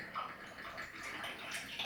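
Sweet vermouth poured from a bottle with a faulty pour spout, a short, soft gurgling trickle of liquid that swells and fades over a couple of seconds, quiet and close.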